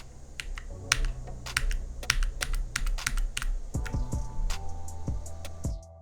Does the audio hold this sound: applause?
no